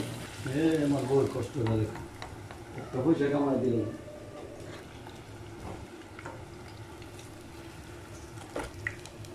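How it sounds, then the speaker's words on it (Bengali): Frozen homemade chicken nuggets and vegetable rolls frying in oil, a steady moderate sizzle running throughout, with a voice talking over it for the first few seconds before the frying continues alone. "এখন আমি চিকেন নাগেট আর হচ্ছে ভেজিটেবল রোল তৈরি করেছিলাম এগুলো আমি বাসায় তৈরি করেছি তো ফ্রোজেন করে রেখেছিলাম এগুলো ভেজে নিচ্ছি"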